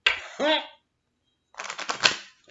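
Tarot cards are shuffled in quick crisp riffling bursts after a short spoken bit and a brief silence, close and moderately loud.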